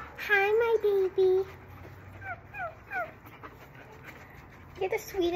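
A Yorkshire terrier pants and whimpers close by, with soft breathy puffs and little whines, while a person talks over it at times.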